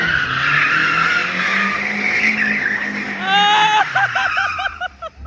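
A rally-style car running anti-lag skids hard, with a sustained tire squeal over a roaring engine that breaks into rapid popping, stuttering bursts near the end, loud and close.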